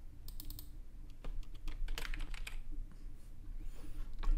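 Typing on a computer keyboard while entering a city name into a design app, a steady run of quick, close key clicks with no talking, set against a low background hum.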